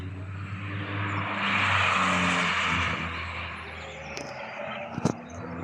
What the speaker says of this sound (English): that GT4 sounds so good, guys. Downshifting. Oh, and the acceleration too.